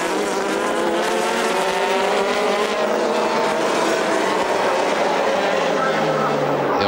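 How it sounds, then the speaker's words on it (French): GT Open race cars at Monza in a continuous loud high-pitched engine scream as they brake and overtake, engine notes layered and sustained throughout, with commentary talk underneath. "Attention au freinage, il est passé Camatias"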